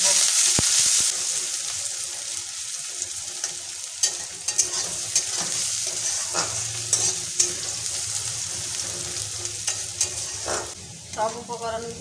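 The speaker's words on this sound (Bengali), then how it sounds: "সব উপকরণগুলো ভালো করে ভেজে নেব।" Chopped garlic, ginger and onion fry in hot oil in a pan, a steady sizzle with repeated scraping and clinking of a spatula as the mixture is stirred close by, and no talking.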